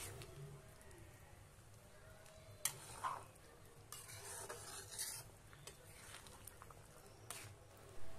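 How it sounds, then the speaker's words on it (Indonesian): A spoon stirs young jackfruit stew with coconut milk in a pan, giving soft scraping and sloshing strokes with light sizzling beneath. Occasional sharper clinks stand out, and the whole stays fairly quiet and close, with no talking. "Aduk terus ya agar santannya tidak pecah,"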